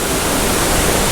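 Rushing water of Estatoe Creek at The Narrows in South Carolina, a loud, steady broadband roar that fills the whole clip with no breaks.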